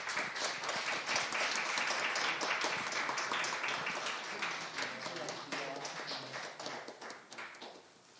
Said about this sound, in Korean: 우리 박수로 뜨겁게 축하해 주시기 바랍니다